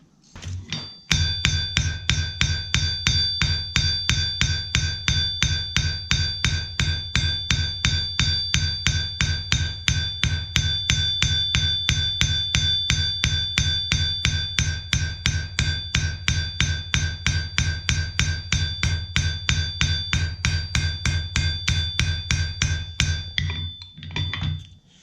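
A ball peen hammer strikes metal daisy petals being forged, a long steady run of ringing blows in an even rapid rhythm, loud and close throughout with no talking.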